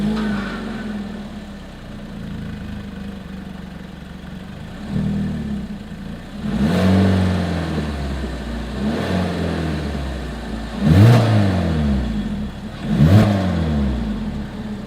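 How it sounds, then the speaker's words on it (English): A 2022 Hyundai Kona's engine idles low, then revs up sharply several times, each throaty exhaust burst rising and falling, close and loud. "As always, here is that exhaust clip."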